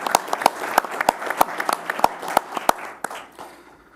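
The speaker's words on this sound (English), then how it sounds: "there got to be an applause in here somewhere" Audience applause at a public announcement event with Governor Andrew Cuomo: a thin, fairly steady patter of separate claps from a modest crowd, moderately close, tapering off toward the end with no talking.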